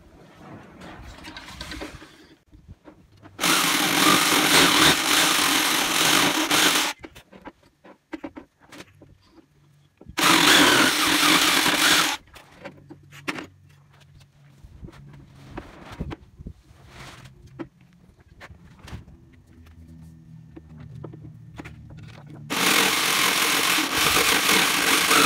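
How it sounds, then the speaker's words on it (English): A jigsaw cuts into a wooden Boy Scout walking staff, three loud buzzing bursts of several seconds each, close up, separated by handling knocks and shuffling. "I'm just going to finish this off with the jigsaw."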